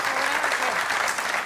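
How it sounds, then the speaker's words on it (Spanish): A studio audience at a Canarian Christmas parranda show applauds Mari Carmen Encinoso, sustained, even clapping from many people throughout, with a voice faintly mixed in. "¡Un aplauso para Mari Carmen!"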